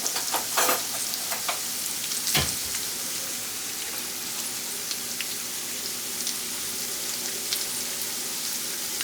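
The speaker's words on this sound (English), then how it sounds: "the pork is burning" Pork frying in a pan, a steady crackling sizzle running throughout with a few sharper pops and stirring sounds, close and fairly loud, with no speech.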